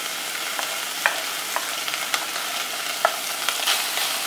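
Four bacon slices fry in a pan with a steady, close sizzle, broken by a few faint clicks and pops and no talk.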